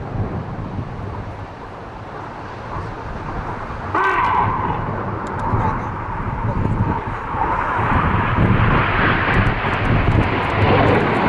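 Red Arrows jets in a flying display at the Bournemouth airshow, turning away at high G; a broad engine roar swells and grows louder over wind noise, with a commentator talking over it.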